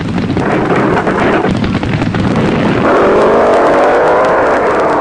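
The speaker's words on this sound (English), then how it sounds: "Gene Snow's rambunctious Dodge Challenger to go against Gabriel and Wagner's Long Beach Firebird Pontiac" Drag racing cars, a Dodge Challenger against a Long Beach Firebird Pontiac, roar in a loud, continuous engine blast with crackling bursts that shifts to a higher, smoother howl partway through as they tear down the strip.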